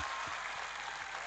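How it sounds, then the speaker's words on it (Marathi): An audience at a political gathering applauds to welcome a former chief minister: dense, steady clapping from a large crowd, loud and continuous throughout. "आपण सगळ्यांनी टाळ्या वाजवून स्वागत करा"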